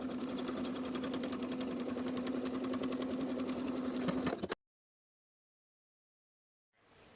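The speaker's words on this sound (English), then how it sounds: "Sew this seam with an 1/8 inch seam allowance and press the seam open." A sewing machine stitches a ruffle seam with an eighth-inch allowance for a wrap skirt, running steadily and close for about four and a half seconds before stopping dead into silence.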